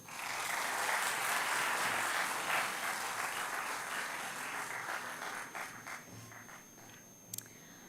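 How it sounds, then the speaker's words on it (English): Sustained applause from an audience at an orientation programme at NIT Goa, honouring the chief guest; dense, steady clapping fills the whole stretch and thins slightly toward the end, with a few sharp louder claps near the close. "Once again, a huge round of applause for our beloved chief guest."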